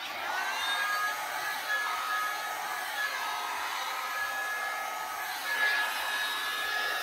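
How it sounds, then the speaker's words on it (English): A Babyliss hair dryer blows steadily with a continuous airy whoosh and faint whine, close by, with no talking. "I'm going to use my Babyliss hair dryer here."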